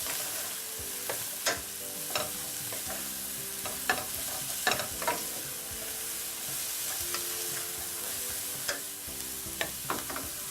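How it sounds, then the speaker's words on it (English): Cauliflower sautés in a buttered pan, giving a soft steady sizzle broken by repeated scraping and clinking strokes of a spoon stirring the florets, close and moderately quiet. "So I'm just going to dump that in there. Stir things up."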